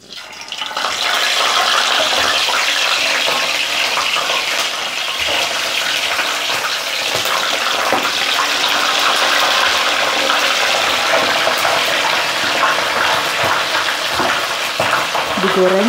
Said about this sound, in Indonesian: Sekarang aku akan menggoreng ayamnya.